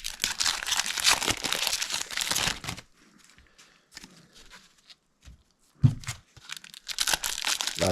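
Foil packs of 1991 Frank Frazetta art trading cards being ripped open from a hobby box: a loud burst of tearing and crinkling, a quieter stretch of faint rustling and handling, then more sharp tearing and crinkling close by.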